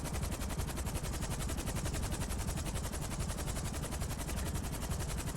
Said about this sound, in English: That's somebody shooting at me.